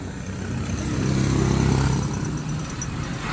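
Road traffic passes close by on a street, with a vehicle's engine swelling to a rumbling peak in the middle and then fading away, with no talking.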